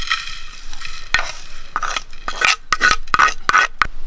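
Masala frying in a pan for a Kerala-style soya chunk curry, stirred with a spoon: a steady sizzle broken by a run of loud, quick scraping strokes against the pan, close up.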